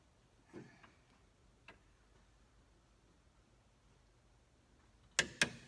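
A torque wrench being tightened, faint scattered ticks and clicks over a quiet background followed near the end by two sharp louder clicks close together, with no talking.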